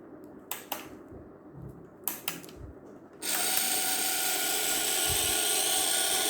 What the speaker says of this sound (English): So as you can see, the motor is running.